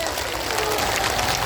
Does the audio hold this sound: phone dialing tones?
no